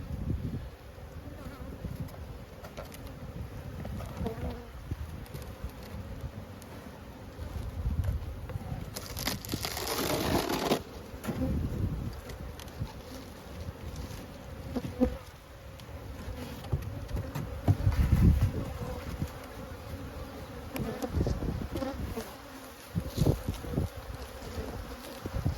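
Honey bees buzz around an open beehive during brood chamber inspection, a steady dense hum with individual bees passing near the microphone, outdoors and fairly quiet.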